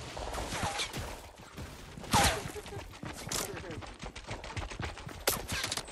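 Several game gunshots from Fortnite crack out in quick, uneven bursts, with one louder shot standing out amid the spread of fire and a few faint mechanical clicks beneath.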